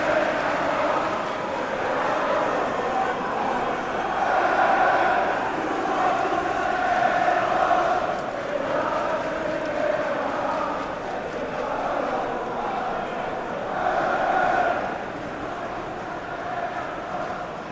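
A large stadium crowd roars continuously in the PES 2021 football game during a Champions League match, a broad sustained wash of cheering that rises and falls gently throughout, with commentators talking over it.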